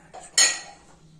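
A glass set onto a cooled cake tin while turning out an orange cake baked without an oven, a single sharp metallic clink with a faint lighter touch just before it, close and alone.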